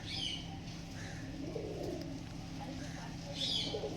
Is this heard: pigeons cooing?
yes